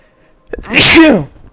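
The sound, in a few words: sneeze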